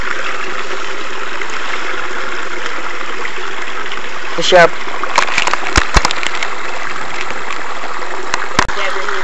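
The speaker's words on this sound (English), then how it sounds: "It's a little waterfall." A little waterfall spills in a small creek, giving a steady, full rushing and trickling that fills the whole stretch, with a brief spoken word and a few clicks and knocks partway through.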